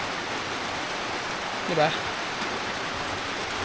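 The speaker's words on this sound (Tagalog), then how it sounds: "Problema ito, umuulan." Steady rain falling outdoors in Puerto, a continuous hiss filling the background while a person briefly speaks over it.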